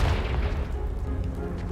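A Confringo fire spell blast in Hogwarts Legacy sounds as a deep, loud booming burst with a rumbling tail, heard up close with no talking.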